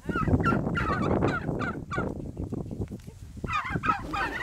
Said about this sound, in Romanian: în partea aceea am găinile, date drumul și gâștele